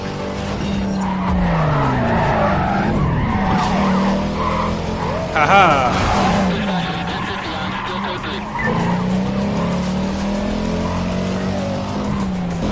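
A race car in the Need for Speed Carbon video game roars and skids through turns, its engine pitch rising and falling steadily with tire screeches, while a person laughs and talks over it.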